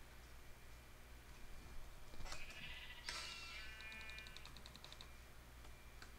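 Blocky sheep in a Minecraft sheep-quest mini game give a few short bleats around the middle, over a steady low game hum with faint clicking.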